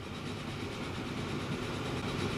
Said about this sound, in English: We've got trains coming in every direction.